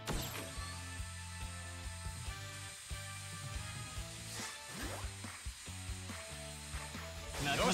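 Mechanical whirring and ratcheting of drills boring away in the video game Lost Judgment, a steady grinding drone with rhythmic clanks and a rising sweep, heard over game music.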